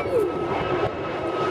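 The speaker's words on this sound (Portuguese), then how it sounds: "O A321 decolando aqui de Campinas." An Airbus A321 takes off from Campinas airport with a steady, broad jet engine roar at moderate distance, heard alone for a brief moment.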